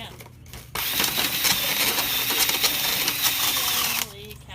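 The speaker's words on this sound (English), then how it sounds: "You can hear the dryer now." A household clothes dryer runs after its vent has been cleaned, giving a steady loud tumbling rumble with rattling clicks that starts abruptly and stops after about three seconds.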